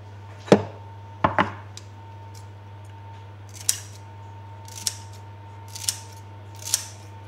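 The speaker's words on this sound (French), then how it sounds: "je vais couper des bouts de carottes" Carrot pieces are cut for guinea pigs with a few crisp snips spaced several seconds apart, close and fairly loud over a steady low hum, with no talking.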